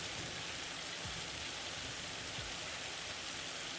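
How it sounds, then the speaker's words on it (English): Steady hail and rain fall in a farming video game during stormy weather with a tornado warning, a dense, even hiss of drops with a few faint low thumps underneath and no talking. "I wonder if this hail is damaging our crops right now"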